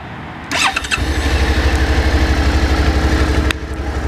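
A Suzuki SV650 motorcycle cranks briefly, catches and settles into a loud, steady, thumping idle close by, with the beat shifting slightly near the end.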